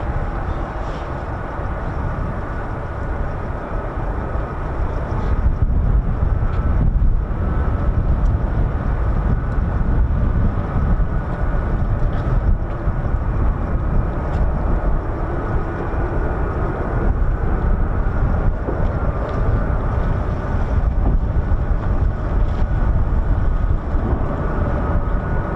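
A C-17 military transport aircraft at RAF Lakenheath airbase, a loud, steady jet engine roar that holds throughout with no letup, heard from a spotting position at the base.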